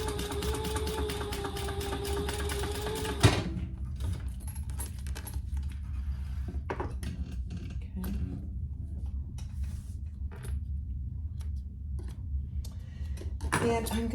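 A sewing machine stitches a quarter-inch zipper seam on a clear vinyl pouch, a fast, close mechanical whir that runs steadily and then stops abruptly, leaving quiet handling clicks while a person talks over the work.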